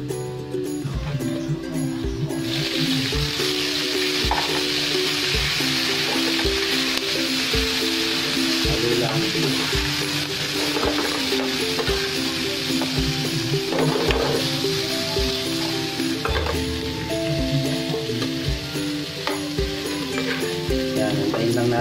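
Shrimp sizzling in garlic butter in a hot pan, a steady loud frying hiss with crackling throughout, stirring and utensil clatter against the pan mixed in.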